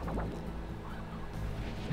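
Chickens in the video game Slime Rancher give short clucking and squawking calls. They are faint and brief, set against a steady game soundscape.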